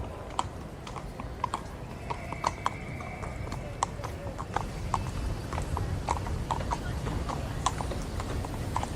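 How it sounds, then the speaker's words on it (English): Horse hooves clatter on cobblestones as a horse-drawn tram moves along a street, a steady rhythm of sharp clip-clop strikes over a constant busy background rumble. "she could hear the clatter of hooves on cobblestones"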